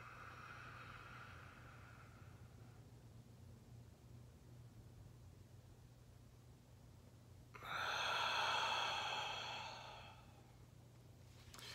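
Deep breathing during a core-strengthening breath work exercise, a long slow steady inhale followed by a louder forceful exhale near the end, close to the microphone, with no talking.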